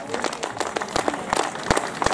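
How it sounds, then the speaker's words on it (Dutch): Applause for the Plantour Poera women's cycling team at a Simac Ladies Tour team presentation, a steady patter of clapping with sharper individual claps mixed in, close and lively for the whole stretch. "We gaan het geweldige applaus laten horen nogmaals voor de dames van Plantour Poera"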